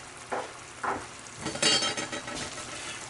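Crumbled blue cheese is stirred by hand into a sizzling sauce in a pan, a steady fry hiss under soft scraping strokes and a few light utensil clinks, close and moderately loud.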